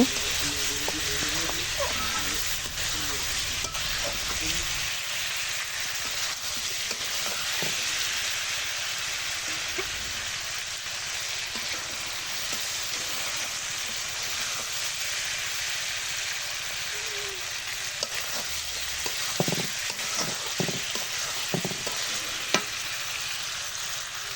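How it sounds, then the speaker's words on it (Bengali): Broiler chicken meat with salt and chili stir-fried over a clay stove, giving a continuous loud hiss of frying with occasional scrapes and knocks from stirring. "লবণ মরিচ এগুলা গোস্তর মধ্যে ভালো করে ডুবে যায় ভিতরে কিছুক্ষণ আমি নেড়ে চেড়ে ভালোভাবে কষান দিয়ে নেব"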